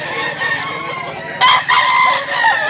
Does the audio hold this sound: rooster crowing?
yes